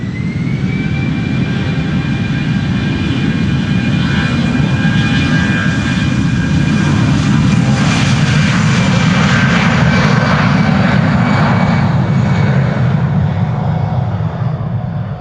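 Airbus A319 jet engines at full takeoff power, an aircraft about 16 years old departing Amsterdam Schiphol: a loud, steady, close roar with a whining tone that holds alone for the whole stretch.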